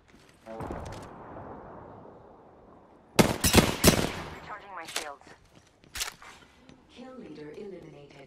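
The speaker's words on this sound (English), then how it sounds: "They spotted me. I'm taking shots." Gunfire in the Apex Legends shooter, a loud rapid burst of shots followed by a few separate single cracks, after a quieter stretch of background game noise, with some voice chatter around it.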